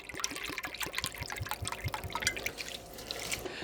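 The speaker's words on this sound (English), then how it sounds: "Now when I'm adding my water, it's taking those seasonings and just going down to the bottom." Water pours steadily into a pot over seasonings and bones for homemade bone broth, a busy splashing trickle with dripping accents running the whole time, close by and fairly loud.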